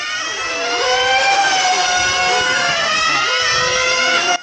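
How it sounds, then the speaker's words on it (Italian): A racing engine on break-in, warmed to 100 degrees, revs hard and steadily at high pitch, a loud continuous whine with rising and falling harmonics held for several seconds without any voices. "Portiamo il motore a 100 gradi e lo facciamo girare per vedere come performerà in gara."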